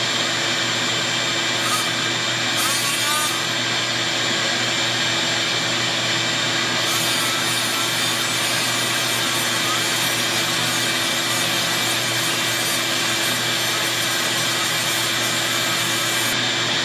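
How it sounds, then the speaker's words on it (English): A steady, loud abrasive whir of small sanding wheels polishing metal parts of a 372XP clone chainsaw, running continuously without pause and with no talking. "The ideal for really polishing are these little sanding wheels."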